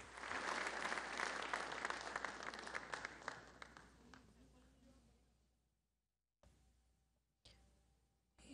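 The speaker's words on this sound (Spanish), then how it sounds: "lo invitamos con un aplauso" Applause for a speaker invited to the podium at a National Assembly session, a dense crowd clapping in the hall that fades away over several seconds, followed by quiet room tone with brief bursts.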